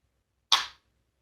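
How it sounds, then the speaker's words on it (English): A rifle's trigger resetting gives one sharp, close mechanical click that fades quickly in an otherwise quiet setting. "We're going to release it and listen for the trigger reset."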